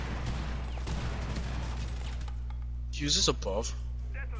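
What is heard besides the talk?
gunfire in a video game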